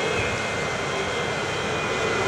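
An aircraft taxiing to the gate in the Transport Fever 2 game produces a steady, loud jet-engine roar with a constant whine, unbroken and close for the whole moment.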